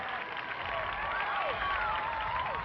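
Studio audience applause and cheering for the winning Growing Pains team at a 1986 celebrity team competition, a steady dense wash of clapping held at even loudness throughout, with a few faint whistles or calls riding over it.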